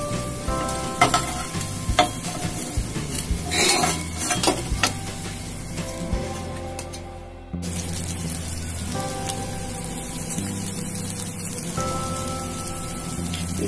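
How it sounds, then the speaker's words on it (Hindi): Bread slices frying in desi ghee for shahi bread tukda give a loud, steady sizzle with crackling pops, and a brief stir or shift midway. "इसे भी अच्छी तरह से तल लेंगे।"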